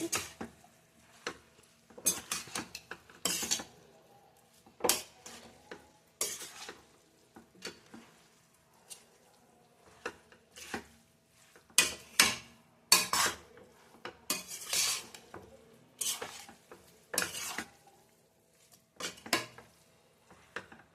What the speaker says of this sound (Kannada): ಪನ್ನೀರ್ ಹಾಕಿರ್ತೀವಲ್ಲ ನಿಧಾನಕ್ಕೆ ಮಿಕ್ಸ್ ಮಾಡಿ